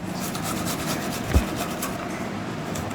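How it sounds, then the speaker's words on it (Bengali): Fresh ginger rubbed against a kitchen grater in rapid repeated scraping strokes, a soft rasping rhythm with one louder knock partway through, no voices. "আমার আদা ঘষা হয়ে গেল।"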